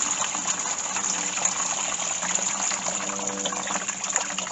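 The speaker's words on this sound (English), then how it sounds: "So what I'll do is pour the juice, as I say, through this sieve" Juice from very soft pears is poured through a sieve for hard cider, a steady close gushing and trickling splash of liquid that runs on without talk.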